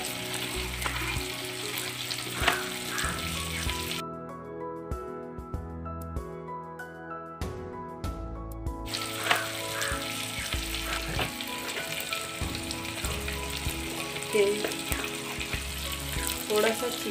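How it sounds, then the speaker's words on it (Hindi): Chana dal with peas frying in a pan with mixed masala and chicken masala, a steady close sizzle with stirring scrapes throughout, briefly dropping to a quieter crackle midway. "बस 1 मिनट इसे ऐसे फ्राई करना है।"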